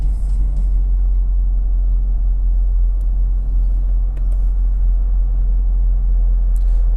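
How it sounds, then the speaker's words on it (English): A car idles and rumbles through an MPP exhaust, a deep steady low growl that stays constant and close with slight flutters, no talking. "Really nice sound with that MPP exhaust"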